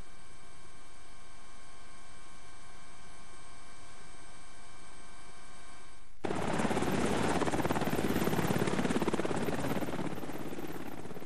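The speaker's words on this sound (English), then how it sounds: "Some people were rescued by helicopter." A rescue helicopter flies over earthquake and tsunami devastation in Japan. A steady, droning rotor and engine tone holds at first, then swells abruptly into a loud, close, roaring wash that continues to the end.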